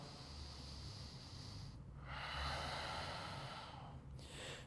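Steady, deep breathing during a strong twisting vinyasa yoga flow, with long airy inhales and exhales rising and falling over a low background hum, close and moderately loud with no talking.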